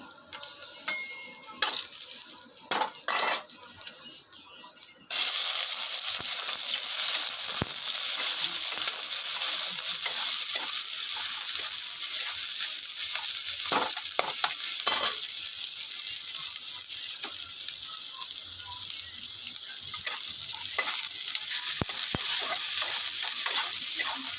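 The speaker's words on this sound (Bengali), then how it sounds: "তো তেলটা গরম হয়ে গেছে, শুকনো লঙ্কা দিয়ে দিই শাক ভাজার জন্য।" Dried red chillies drop into hot oil for frying leafy greens, setting off a sudden loud, steady sizzle that crackles on close by after a few seconds of quieter clinking.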